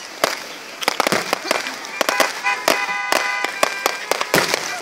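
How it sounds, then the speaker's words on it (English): A fireworks display on a cold night at Saddle Lake, 2014, crackles with many sharp pops and bangs in irregular rapid bursts, with whistling shells rising between them, fairly close and loud. "Enjoy the fireworks, guys."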